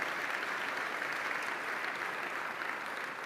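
A theatre audience at an economy and development awards ceremony gives a sustained round of dense, even applause, a steady wash of many hands clapping that fills the space without talk.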